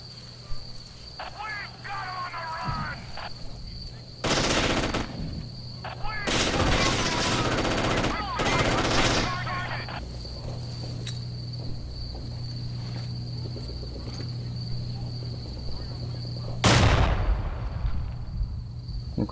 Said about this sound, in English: Okay, that was the machine gunner.